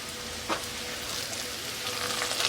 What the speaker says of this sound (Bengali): ঝিঙেটাও প্রায় ভাজা ভাজা হয়ে গেছে।